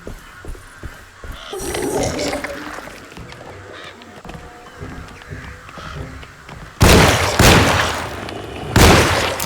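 Gunfire from the survival horror video game Alone in the Dark: scattered sharp game sounds and a voice early on, then two loud, abrupt blasts near the end, each ringing out briefly.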